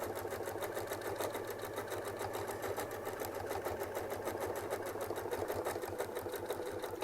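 A sewing machine stitches a circle on a quilt medallion, a steady fast mechanical chatter with a low motor hum running unbroken and close throughout.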